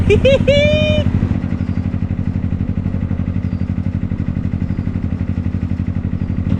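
The engine of a 94-year-old wooden narrowboat chugging along a canal, a close, steady low-pitched thumping beat that runs throughout, with a voice calling out briefly at the start.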